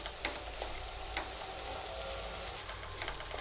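Grated coconut and peanuts sautéing slowly in a little oil for peanut chutney, giving a soft continuous sizzle with occasional light spatula taps and scrapes, quiet and close.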